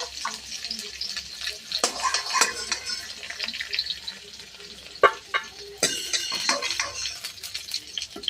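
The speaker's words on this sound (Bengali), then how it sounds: "পুঁই শাক আলু এখন নিচে আবার হালকা করে নেড়ে নেব।" Fried Malabar spinach and potatoes are stirred in oil in a pan, a close sizzle broken by irregular scraping and clattering strokes of a spatula against the metal, several sharp knocks standing out, with no voices.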